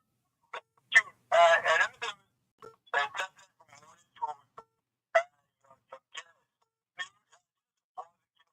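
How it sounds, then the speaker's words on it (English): A telephone line ringing during a radio breakfast call-in show, a short burst of ringing near the start with sparse talk scattered around it. "The line, the phone ringing randomly."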